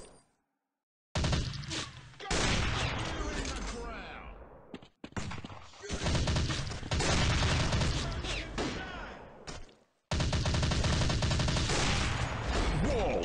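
Sustained gunfire and blasts from an Android war shooting game, loud bursts separated by sudden silent gaps, with an announcer voice calling out over the action.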